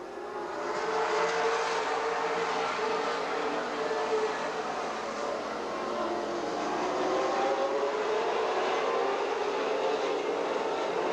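Race cars lap Golden Sands Speedway in Wisconsin Rapids just after the green flag of a 91-lap Wisconsin Challenge Series race: a continuous, loud massed engine roar that swells and eases slightly as the field passes.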